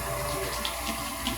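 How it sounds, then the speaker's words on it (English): Hot tap water runs steadily into a sink for hand washing, a continuous close splashing hiss with no talk over it. "get your water running, let your water get hot and warm"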